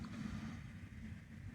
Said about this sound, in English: I don't know if you can hear the storm outside.